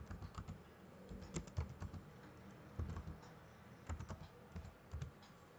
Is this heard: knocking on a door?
no